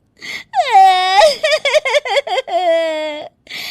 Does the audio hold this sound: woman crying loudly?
yes